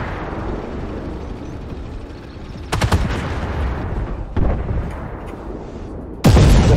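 Tank cannon fire aimed at a Bradley fighting vehicle in a video game: three sharp, loud booms at uneven intervals, the last one the heaviest, over a constant low engine rumble.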